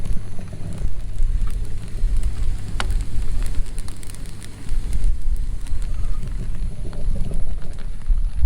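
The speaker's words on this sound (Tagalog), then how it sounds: "Medyo mahina na yung ulan, ambon na lang. Pero hindi pa rin siya tumitigil." Light drizzle falling at a campsite in Cavinti, Laguna, a soft continuous patter with scattered sharper drops against a low rumbling background, steady throughout without speech.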